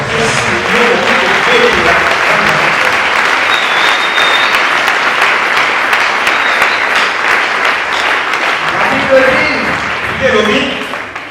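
A church congregation applauds and cheers in a loud, continuous wash of clapping that fills the room, with voices rising through it and a slight swell near the end.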